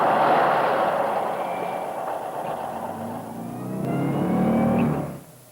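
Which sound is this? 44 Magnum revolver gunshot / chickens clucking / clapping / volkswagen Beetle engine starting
volkswagen Beetle engine starting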